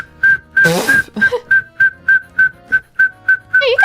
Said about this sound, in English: I used to be like decent at whistling, but I never mastered it. Spit whistle.